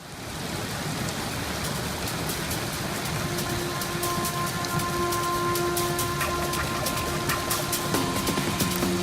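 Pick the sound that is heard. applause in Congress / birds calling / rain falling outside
rain falling outside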